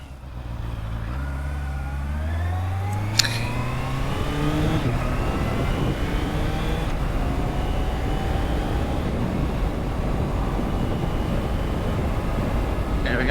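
Honda CBR650R motorcycle with E-Clutch accelerating up through the gears without the clutch, a loud close engine rising in pitch with each gear, quick shift dips, then a sustained high-speed roar on a busy road.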